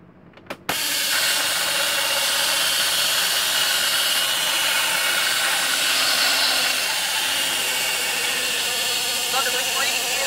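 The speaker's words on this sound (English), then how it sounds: "ignition engines in three, two, one." A toy rescue vehicle from a secret-base playset roars into a loud, steady whooshing hum after a sharp click start, sustained evenly for about ten seconds with no talking.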